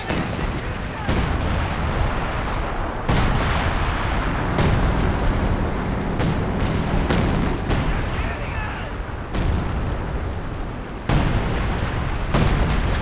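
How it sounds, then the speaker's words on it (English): Repeated heavy artillery blasts boom through a Company of Heroes 2 battle, a dense barrage of loud explosions with sharp onsets every second or two, layered over rumbling battlefield noise. "Got a bit of major artillery coming in"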